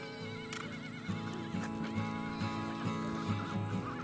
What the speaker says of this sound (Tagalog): Nagalit na yung kabayo.